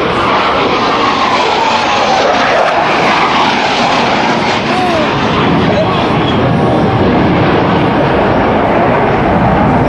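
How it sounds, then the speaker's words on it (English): US Navy Blue Angels jets fly an opposing knife-edge pass at a 2005 Rhode Island Air National Guard open house airshow, a loud, continuous roar of jet engines that fills the whole stretch. "roll the aircraft to a 90-degree angle of bank and push forward on the stick as they perform the opposing knife edge pass"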